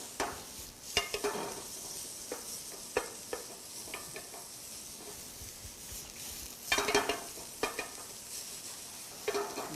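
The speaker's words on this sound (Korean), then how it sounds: "요걸 갖다가 먼저 이렇게 볶아줍니다." Seasoned mountain vegetables with sesame oil stir-fry in a pan, a soft continuous sizzle broken by irregular scraping and tossing clatters, close up, with no one speaking.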